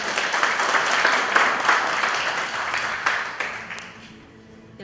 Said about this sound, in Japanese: 温かい拍手で歓迎してください。